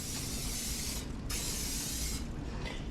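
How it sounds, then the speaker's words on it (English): Pan spray hisses from an aerosol can onto a baking pan in a home kitchen, in two close bursts of steady hissing with a brief pause between them. "I'm going to spray my baking pan with some pan spray"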